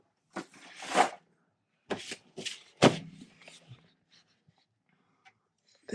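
A pack of designer series paper being handled for a papercraft box, with several rustling, flapping sheet sounds in short bursts, close up, then fading to faint occasional ticks.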